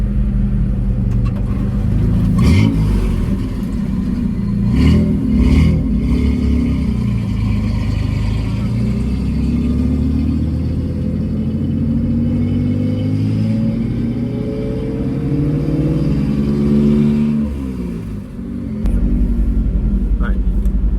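A Ford F100 pickup with a Coyote V8 swap drives on back roads, its deep engine rumble rising and falling through shifts and downshifts, loud and close beneath ongoing conversation.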